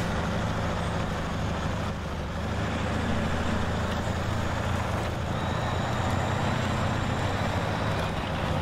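A truck engine in SnowRunner drones steadily and loudly throughout, a dense continuous rumble with no change in pace and no voices.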